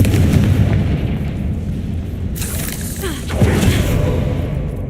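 A Confringo fire spell explodes in the Hogwarts Legacy video game, a loud, rumbling blast that fills the whole moment, followed by a sharp whooshing burst about midway, with no voices over it.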